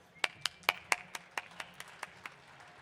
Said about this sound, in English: please give a round of applause to him